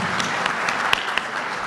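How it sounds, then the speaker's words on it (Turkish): A brief burst of dense audience applause at a gastronomy event on Elazığ dishes, steady clapping with a few sharper individual claps standing out. "sizlerle birlikte bir koca alkış göndermek istiyorum"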